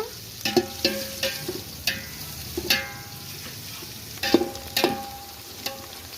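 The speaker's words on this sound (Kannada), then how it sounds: "ಈರುಳ್ಳಿ ಚೆನ್ನಾಗಿ ಫ್ರೈ ಆಗಬೇಕು." Sliced onions fry in hot oil in a pot for chicken biryani, a steady close sizzle broken by repeated scraping and clinking stirs, with no talk.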